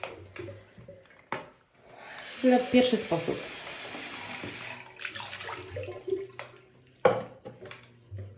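Dirty water is poured out of the waste water tank of a Hizero floor cleaner into a sink, a hissing, splashing stream running for several seconds between clunks and handling knocks, with brief talk nearby.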